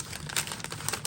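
Soft crinkling of a plastic bag, quiet irregular rustles close by with no voices.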